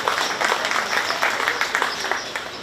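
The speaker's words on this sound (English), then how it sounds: "Let's give all 4 of these exhibitors a really nice round of applause" A crowd at a 4-H cattle show at a county fair applauds the exhibitors with a short, steady burst of clapping close by.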